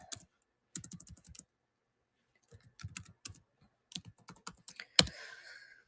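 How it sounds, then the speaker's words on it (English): Fingers type on a computer keyboard up close in a quiet room, in quick bursts of clicking keystrokes separated by pauses, ending with one sharp, louder key strike. "first I'm just going to type a normal hi, hello"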